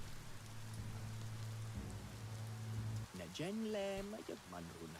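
Steady rainfall patters in the video game Biomutant, a soft continuous wash of drops on surfaces heard under a voice and game sounds.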